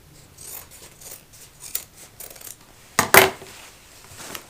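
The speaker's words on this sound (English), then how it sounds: "You can go ahead and trim to the right of your stitch line, about 5/8 of an inch, and trim off that corner piece." Scissors trim the fabric corner of a sewn six-pocket tote bag: soft snips and rustling build to two sharp, close cuts near the end, with no talk.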